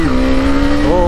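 A KTM 390 motorcycle revs and accelerates, its engine note holding steady then climbing sharply at the end in a loud, close burst.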